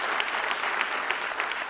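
Dense, even applause from an audience at a success training seminar, loud and continuous for its full length with no voices rising above it.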